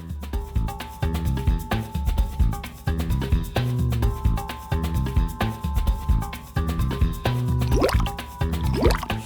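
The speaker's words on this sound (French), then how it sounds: "on verse le solide puis on rince la capsule de pesée et l'entonnoir avec de l'eau distillée pour récupérer la totalité" Distilled water is rinsed from a weighing dish and funnel into a volumetric flask during a laboratory dissolution, giving steady trickling and dripping that rises near the end, over a rhythmic background.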